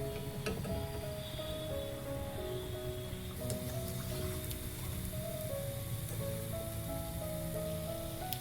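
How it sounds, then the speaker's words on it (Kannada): Food fries in hot oil with a steady, dense sizzle and crackle throughout, close and continuous with no talking. "ನಾವು ಇದನ್ನು ಫ್ರೈ ಮಾಡ್ಕೋಬೇಕು. ನೋಡಿ ಸ್ವಲ್ಪ ಕೆಂಪಾಗೋ ತನಕ ನಾವು ಇದನ್ನು ಎಣ್ಣೆನಲ್ಲೇ ಬೇಯಿಸ್ಕೊಬೇಕು."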